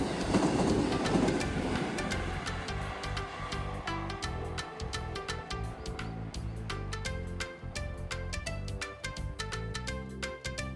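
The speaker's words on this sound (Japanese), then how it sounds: "そして少しのどかな電車の風景をお楽しみください。" A train passing close by near the old Tokaido road, a steady loud rumble with rapid rhythmic clicking of wheels over rail joints throughout.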